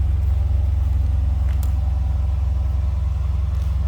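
A stock-exhausted 2012 Dodge Challenger SRT8 idles from behind the car, a loud, steady V8 rumble with an even lumpy pulse and no talking throughout.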